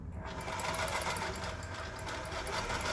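A Toyota 9600 home sewing machine runs steadily, its motor and needle producing a close, continuous mechanical whir and rapid stitching rhythm with no pauses.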